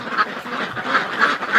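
Ducks being raised for charity quack repeatedly close by, a busy cluster of overlapping nasal calls with no talking.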